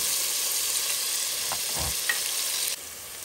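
Small chicken pieces fry in a pan with a dense, steady sizzle filling the whole clip, close and even, with a faint scrape of stirring partway through.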